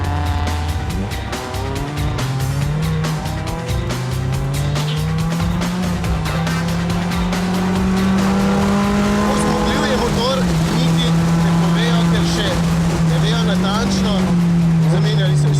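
A Mazda MX-5 Global Cup race car with a loud racing exhaust roars continuously nearby, its engine note climbing and settling through several revs across the whole stretch.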